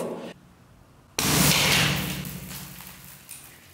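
An airsoft grenade hits the floor of an echoing room, a sudden loud thud with a burst of hissing noise that slowly fades over a couple of seconds.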